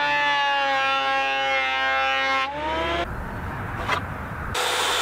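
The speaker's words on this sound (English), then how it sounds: "Our first order of business is going to be to clean up the surfaces of this rough sawn pine" A thickness planer feeds rough sawn pine boards, its loud whining motor holding a high sustained tone that drops as the board engages, then gives way to a rough roaring cut before the whine returns.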